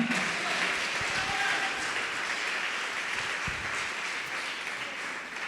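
A church congregation applauding during a Portuguese-language worship service, a dense steady roar of clapping from many hands that fills the room without pause throughout.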